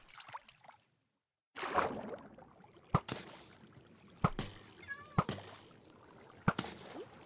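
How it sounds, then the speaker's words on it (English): A cat meows several times in the Minecraft video game, over ambient water and game sound with sharp clicks scattered throughout and a brief silent gap near the start. "Watch out, Mr. Kitty, I'm coming to save you"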